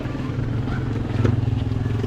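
Motorcycle idling and revving at a house construction site, a close, low throbbing engine with a steady pulsing rhythm that rises briefly in the middle, heard alone without talk.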